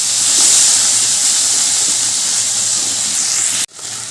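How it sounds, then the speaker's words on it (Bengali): Salt-and-turmeric-coated shrimp hit hot oil for a banana flower and shrimp dish, producing a loud, close, continuous hissing sizzle that cuts off abruptly near the end before faintly resuming. "এবার আমি নুন হলুদ মেখে রাখা চিংড়ি মাছগুলো তেলের মধ্যে দিয়ে দিলাম"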